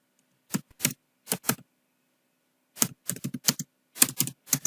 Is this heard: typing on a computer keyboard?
yes